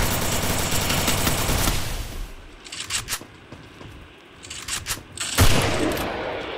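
Rapid automatic gunfire in the Free Fire battle royale game, a dense loud burst at first, then scattered separate shots and short volleys, with a final sharp burst near the end.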